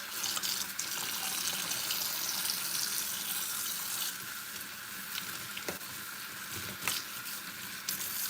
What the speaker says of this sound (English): And again, I'm rinsing it with cold water.